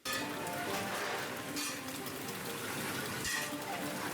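Rain pours steadily in a dense hiss, with a few brief louder splashes and gusts rising out of the downpour.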